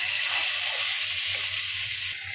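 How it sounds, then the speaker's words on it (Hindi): Spices for a tadka temper loudly in hot oil for malai kofta curry, a steady bright crackling hiss that drops a little in intensity near the end. "ये देखिए अब इसमें हम तड़का लगा रहे हैं।"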